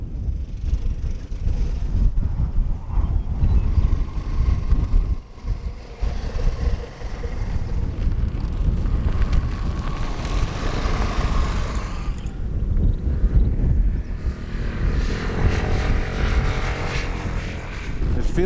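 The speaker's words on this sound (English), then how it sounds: "there is a strong crosswind blowing from the left that makes riding fairly unpleasant right now" Strong crosswind roars and buffets against the microphone while riding a scooter on the road, a loud, continuous rushing noise mixed with engine drone that swells and fades in gusts.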